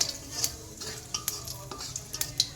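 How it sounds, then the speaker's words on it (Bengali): Whole cumin seeds sizzle quietly in oil as a spoon scrapes and stirs them through a pan in quick, irregular strokes until reddened, with occasional light metallic clinks. "জিরাটা আমি নেড়ে চেড়ে লাল করে ভেজে নিলাম"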